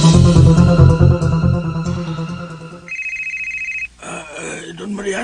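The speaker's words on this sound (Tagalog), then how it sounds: "may bagting imong cellphone, sir" A cellphone rings in a radio drama, a bright repeating electronic tone sounding on its own for about a second after loud music and voices, then talk resumes.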